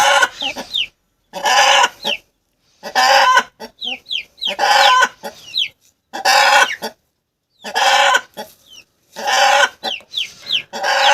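Chickens cluck in repeated loud bursts separated by brief pauses, a rooster among them, close by with no talking.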